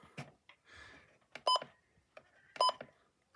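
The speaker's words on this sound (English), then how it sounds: "So right now it's beeping when I press buttons." A NOAA weather radio gives two short electronic beeps as its buttons are pressed, separated by about a second, with quiet talking in between.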